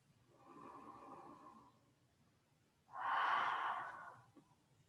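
Slow breaths during a yoga breathing exercise, heard up close and fairly soft. A gentle airy exhale fades out, then a louder, fuller inhale follows after a short pause.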